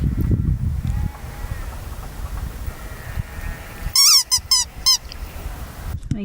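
A squeaky toy ball squeezed by a playing dog, a quick burst of several high, sharp squeaks close by, following low rumbling handling noise and quiet background.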